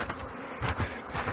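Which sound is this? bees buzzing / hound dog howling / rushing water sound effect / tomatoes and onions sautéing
bees buzzing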